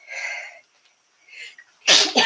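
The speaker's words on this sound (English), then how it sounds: "I gotta sneeze." A person sneezes near the end, two sharp, loud bursts in quick succession after a few soft, breathy sounds and a short quiet pause.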